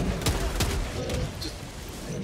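Gunfire in the video game Helldivers 2: several sharp, loud shots crack in quick succession early on, then scattered fainter bursts amid a rumbling battle din, with a voice briefly under the noise.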